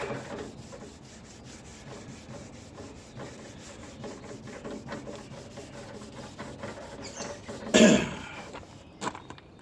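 Quiet, repetitive rubbing strokes of wet sanding on the body panel of a 1957 Chevy, a soft rasping texture, then a brief louder scrape or knock near the end.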